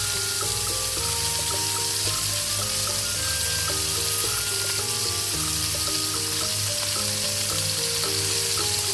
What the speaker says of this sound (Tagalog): samahan niyo ako mga ka-angels sa aking pagluluto ng beef stick with garlic